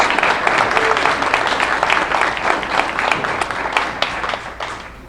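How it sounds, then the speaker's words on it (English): Convention audience gives a loud, sustained round of applause for first-time attendees, dense clapping from a large crowd lasting the full five seconds and easing slightly at the end. "Give them a nice round of applause."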